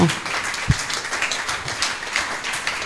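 Church congregation applauding and cheering loudly in praise, a dense steady wash of clapping that fills the space with a few sharper claps poking through.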